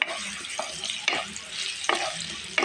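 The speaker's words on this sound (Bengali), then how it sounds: "আমি পেঁয়াজ কুচিটা দিয়ে দিলাম এখন একটু নাড়াচাড়া করবো" Chopped onions fry in a pan with a continuous close sizzle, punctuated by a few distinct scrapes of a spatula stirring them.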